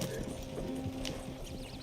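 Horses trot steadily in Red Dead Redemption 2, with a brisk clip-clop of hooves running under a voice throughout the short stretch.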